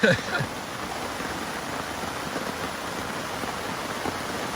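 Heavy rain pours onto a tarp at a wilderness campsite in a dense, loud, unbroken hiss and patter, a brief sharper knock at the very start.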